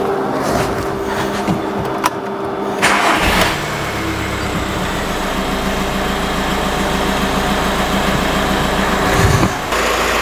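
A 2009 Audi A3 diesel engine cranks and catches almost instantly, settling into a steady, close idle with a low rumble that runs on alone for several seconds.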